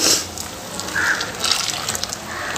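Thinned dosa batter poured into a pot of boiling sambar, a soft watery pouring and splashing running steadily throughout, close and moderately loud, with no talking.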